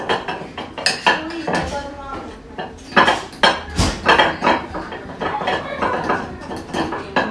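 A utensil stirs beef stroganoff gravy in the metal inner pot of an Instant Pot, clinking and scraping against the sides in a steady, repeated rhythm, loud and close.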